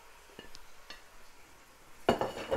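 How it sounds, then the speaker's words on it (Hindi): Goat meat for a mutton korma dropped into hot oil and stirred, with a few light utensil clinks against the pot, then a sudden loud burst of sizzling and scraping near the end. "ये जो हमने गोश्त आपको बताया था, बिस्मिल्लाह, और इसे मैं भूनूंगी, चूल्हा कर दूंगी तेज़"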